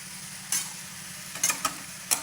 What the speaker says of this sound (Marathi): परत सारखं असं हलवत राहायचं सगळं एकत्र झालं पाहिजे वरतून मीठ टाकून घ्यायचं